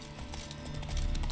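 Horse hooves clip-clop in a quick galloping rhythm while riding in The Witcher 3 video game, steady and close, building slightly louder toward the end.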